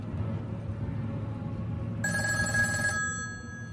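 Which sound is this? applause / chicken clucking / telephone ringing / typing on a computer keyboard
telephone ringing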